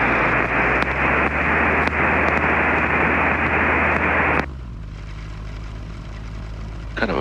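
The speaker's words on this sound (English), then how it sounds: "King Air is passing" Beechcraft King Air turboprop airplane passing at an airfield, a loud steady broadband roar with engine drone that holds for about four seconds and then cuts off abruptly, leaving quieter low hum and faint background noise.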